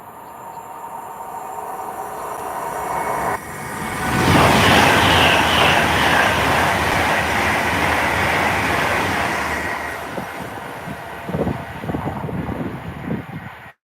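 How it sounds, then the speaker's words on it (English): A train approaching and passing straight through a station platform without stopping, a loud rushing rumble swelling around four seconds and holding steady before fading out, with clattering wheel noise toward the end. "the approaching train is not scheduled to stop at this station"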